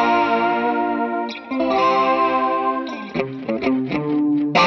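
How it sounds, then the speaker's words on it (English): Electric guitar through a Marshall amp with a slight grind, chords ringing with a chorus-like shimmer, then quicker picked notes, loud and close with no talking. "there's a little grind from the Marshall, but not too much. It's just slightly broken up"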